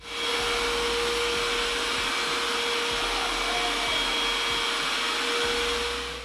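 A Cecotec Conga 5490 robot vacuum cleaner runs steadily and loudly, a constant airy whine with a low mechanical drone beneath it, no voices.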